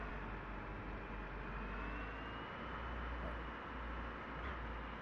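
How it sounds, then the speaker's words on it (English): A helicopter flies at a distance, a steady, dull rumbling roar that holds constant and fairly faint throughout, with no clear voices on top. "It's a chopper."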